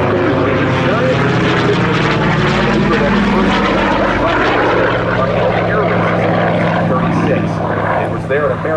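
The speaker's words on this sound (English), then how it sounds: "flies the Corsair into the vertical" A Goodyear FG-1D Corsair warplane flies aerobatics at an airshow, its propeller engine giving a loud, steady roar throughout. A voice talks over the engine noise.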